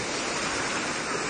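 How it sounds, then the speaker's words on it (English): A wave pool at the Fontana Leisure Park resort gives off a steady, dense roar of churning water and surf, loud and unbroken throughout with no voices. "This is the wave pool."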